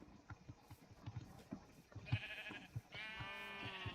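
Sheep bleat in Minecraft, with a few wavering calls near the end among soft footsteps and small game clicks.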